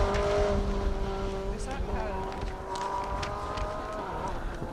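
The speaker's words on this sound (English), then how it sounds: "clattering underneath of that car coming up to the first of the jumps here in Edsom" A rally car races along an asphalt stage at the Jim Clark Rally, its engine loud and sustained with shifting revs and some clattering from underneath. A commentator talks over it.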